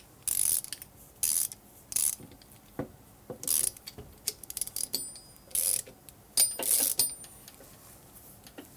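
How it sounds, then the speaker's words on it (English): A puller is tightened to draw a part off a jack shaft, giving sharp repeated ratcheting clicks in short irregular bursts with brief pauses, close and crisp, with no voices. "now all I got to do is tighten this and it'll pull it off"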